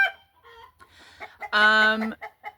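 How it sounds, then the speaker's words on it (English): Panicking chickens cluck and squawk in agitated bursts as if a fox were near, one loud drawn-out squawk standing out among shorter close calls, with brief talk under them. "as the chickens seem to think, a fox is around or something. They're panicking a lot at the moment."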